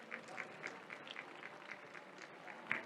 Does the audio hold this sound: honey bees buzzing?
no